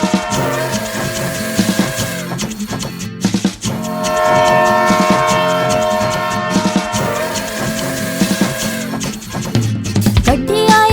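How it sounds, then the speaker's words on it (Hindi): Cartoon-style steam train chugging with a whistle as a sound effect in a Punjabi children's song about a train, set against steady music that fills the clip without pause. "गड्डी आई छुक छुक छुक सीटी वेखो किवें वजे कुक कुक कुक"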